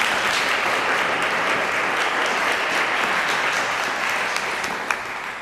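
Sustained audience applause for a panel at an evening event at the College of Physicians of Philadelphia, a dense, steady wash of many hands clapping that fades slightly near the end, with one sharper clap standing out.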